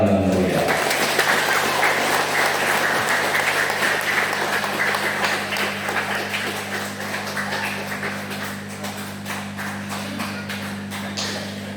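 A congregation at a mass wedding blessing in a parish church gives a long round of lively applause, a dense steady clapping that swells at first and then gradually thins out, with a low steady hum underneath.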